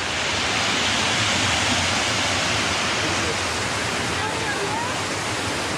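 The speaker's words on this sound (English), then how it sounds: "we are officially in the waterfall" Loud, steady roar of falling water close at hand, heard from within a waterfall in Omealca, Veracruz, Mexico, a dense unbroken rushing wash with no pauses.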